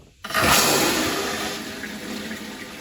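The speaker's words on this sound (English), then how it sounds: "This system, old-fashioned flush" An old-fashioned toilet flushes with a sudden loud rush of water that gradually settles into a steady refilling flow, close by and with no talk.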